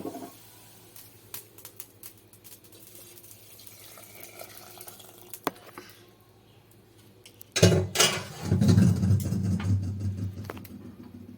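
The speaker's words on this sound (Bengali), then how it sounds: "এই অবস্থায় আমি জলটা ডালের মধ্যে ঢেলে দেবো।" Boiling water is poured into dal in a home kitchen; after a quiet stretch with faint clinks, a sudden loud, sustained rushing splash takes over near the end, with no talking.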